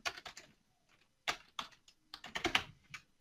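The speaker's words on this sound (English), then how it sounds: "I'll just type in home improvement" Quiet keystrokes on a computer keyboard come in quick bursts with short pauses between them, close-miked and crisp, with no talking.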